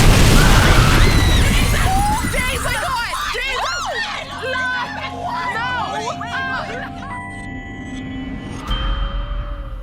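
A car explodes in a staged death-game reality show, a loud booming burst at the start that fades under frantic crowd shouting and overlapping screams.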